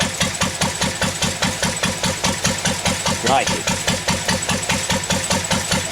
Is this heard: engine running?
yes